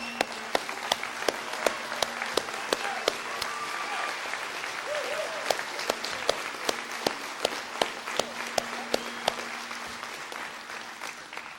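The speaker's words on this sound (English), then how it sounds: "give him a standing ovation and a big applause" Church congregation rising in a standing ovation: sustained applause from a large crowd, fairly distant and even, with sharper individual claps popping out at regular intervals and faint voices underneath.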